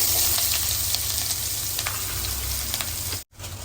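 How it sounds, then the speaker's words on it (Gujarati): Chopped onion hitting hot oil already seasoned with mustard seeds, asafoetida, dried red chillies and bay leaf, giving a loud, dense, crackling sizzle close by that runs steadily before cutting off abruptly near the end. "પછી એની અંદર આપણે નાખશું કટિંગ કરેલી ડુંગળી."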